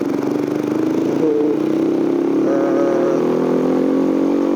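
A Yamaha LC135 motorcycle fitted with an ESR1 camshaft is ridden with its engine droning loud and close, holding a steady pitch with slight rises as the rider throttles, and wind rush underneath.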